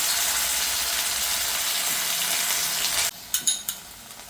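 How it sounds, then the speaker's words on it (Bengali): Onion paste hitting hot oil with black cumin tempering, a loud steady sizzle that cuts off abruptly and gives way to a few sharp clinks and taps, with no voices. "এবার আমি দিয়ে দেবো পেঁয়াজ পেস্ট।"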